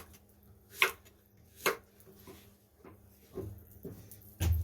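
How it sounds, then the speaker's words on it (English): A knife slices peeled plantains on a cutting board at an angle, giving several spaced, crisp chops that land close and clear over a quiet kitchen, with softer handling thumps between cuts. "I like to slice mine kind of about 1/4 inch thick at an angle"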